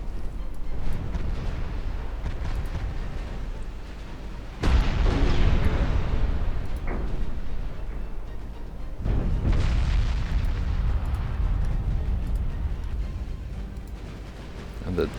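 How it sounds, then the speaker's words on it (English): Torpedo hits on the battleship Voronezh in a naval combat game land as two heavy, rumbling booms several seconds apart. Each blast is followed by a long roaring decay over constant battle noise. "Let's actually get some torpedoes on the Voronezh."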